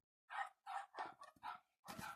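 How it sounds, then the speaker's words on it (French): Dogs barking indoors at home, five or six sharp separate barks in quick succession, fairly close but moderate in level, with no other sound between them. "C'est rien, c'est mes chiens qui aboient."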